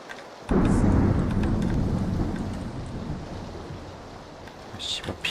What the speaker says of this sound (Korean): 비가 와서 발소리도 잘 안 들리고